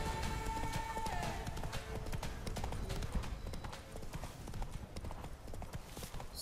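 Rhythmic clip-clop of horse hooves trotting steadily in The Witcher 3: Blood and Wine, close and continuous, with a short whinny early on and quiet talking underneath.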